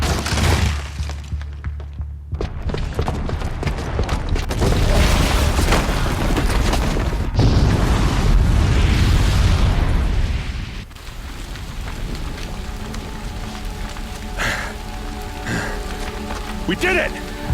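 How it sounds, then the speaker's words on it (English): A booby-trapped bomb goes off in Horizon Zero Dawn, a loud sustained blast full of shattering debris and crumbling rubble that gradually fades, with a voice speaking over it. "the booby trap on the bomb downstairs is gonna get set off"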